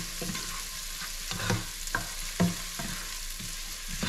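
Onions fry in a pan as the base for coconut-milk shrimp and mussels, giving a soft steady sizzle broken by periodic scraping stirs, with no talk.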